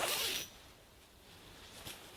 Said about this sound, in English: But when you just zip it up normally,